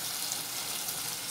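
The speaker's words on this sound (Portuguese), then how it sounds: "Deixa aqui fritando, ó." Chicken pieces frying in a pan at home, giving a steady, even sizzle with fine crackling hiss throughout, moderately quiet and close, with no talking over it.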